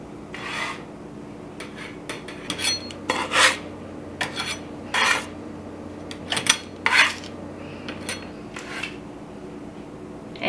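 Freshly baked gluten-free peanut butter cookies are lifted off a metal baking pan onto a cooling rack, giving a run of short scraping spatula rasps and light metallic clinks, close and moderately loud, with no talking.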